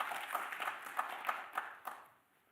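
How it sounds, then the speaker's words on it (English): Audience applause for a panel of speakers and their moderator at a conference session, a brief patter of clapping with a few sharper claps that fades out after about two seconds. "please give our panelists and moderator a round of applause"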